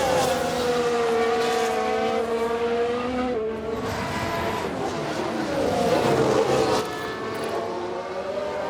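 Formula 1 race cars from F1 Manager 2022 at the Hungary Grand Prix scream past in an overtake, with loud sustained engine whine shifting pitch as the cars close and pull by, continuous throughout.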